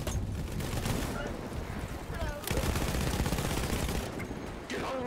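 Sustained battlefield gunfire from Battlefield 1, with dense, rapid automatic bursts and heavy shots rolling continuously through the scene, loud and close, under intermittent voice chat.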